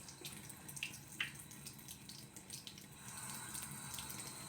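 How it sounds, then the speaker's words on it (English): Tap water runs from a faucet while hair is being wet, a faint steady trickle with a few light splashes and drips, no voices. "I'm just using my tap water"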